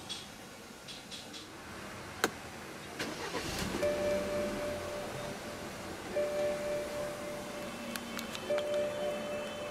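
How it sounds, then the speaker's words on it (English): A 2012 BMW 328i Sport Line (F30) starts via keyless push-button, with faint cabin clicks and chimes before the engine catches and settles into a quiet, steady idle. "Put your foot on the brake and press the start button."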